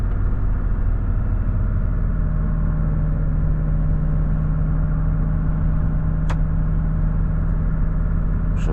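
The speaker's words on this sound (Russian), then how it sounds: "по мотору слышно, что 7-я передача, он газует" A Volvo FH 540 truck's engine pulls in 7th gear from inside the cab, a steady loud low drone with a constant mid hum and no clear rise, plus a brief sharp click near the end.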